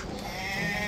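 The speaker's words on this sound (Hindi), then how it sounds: "सो एक एक करके अजय, एक एक करके बकरे लो सामने" A goat at a livestock sale of Gujri breed goats gives a brief, close bleat over steady background noise, with no talk during the sound.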